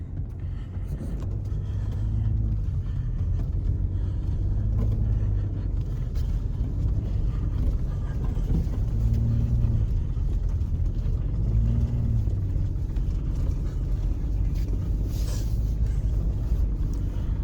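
A Ford Expedition Max on Falken Wildpeak tires driving in two-wheel drive, a constant low engine and road rumble filling the cabin with slight rises in engine tone as it claws along.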